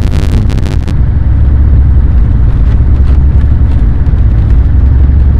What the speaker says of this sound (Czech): To je zvuk toho traktoru